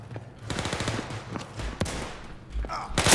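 Rapid gunfire in The Walking Dead video game, a quick rattling burst of shots followed by a few separate louder bangs, with background game noise.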